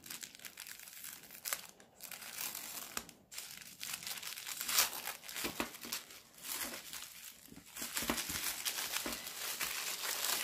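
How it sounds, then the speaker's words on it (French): A small paper pouch is opened slowly and carefully, giving irregular crinkling and rustling bursts with brief pauses between them. The sound is close and fairly quiet, with no voices. "pochon en papier mystère. Je vais essayer d'ouvrir ça délicatement."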